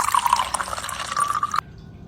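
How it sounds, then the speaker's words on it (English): Water pours in a gurgling stream into a bowl for about a second and a half, then stops abruptly, leaving near silence. "Now pour some water into a bowl."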